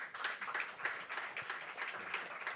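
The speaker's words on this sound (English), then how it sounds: "Please give him a round of applause" Steady applause from a crowd at a technology summit awards night, many hands clapping in a dense, even patter that carries on throughout at moderate volume.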